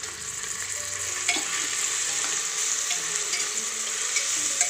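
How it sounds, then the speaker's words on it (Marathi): A garlic, ginger and coriander paste sautés in a hot pan with a loud, steady sizzle and occasional stirring scrapes; no voices. "आता यामध्ये हे लसूण, आलं आणि कोथिंबीर यांचं वाटण केलेलं आहे, हे टाकू।"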